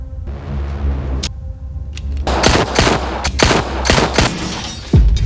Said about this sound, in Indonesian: Dia menembak Asan.